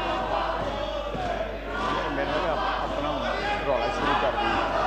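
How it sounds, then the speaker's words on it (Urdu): Chanting and shouting crowd of lawmakers on the floor of a parliamentary session, a dense continuous roar of many voices without pause. "میری آپ سے گزارش ہے نعرے بازی نہ کریں، ان کو منع کریں۔"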